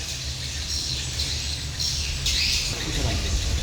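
Swifts calling at their nest on a ceiling, harsh high squawks and chirps over a steady background hum, close and continuous.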